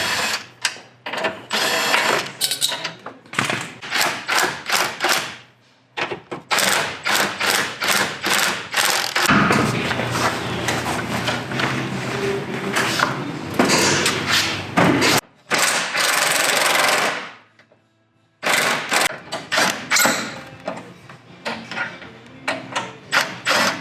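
A ratchet wrench backs off the retainer nuts of a Warn M15000 winch on a Ford F250, giving close, rapid clicking bursts separated by short pauses and occasional clunks.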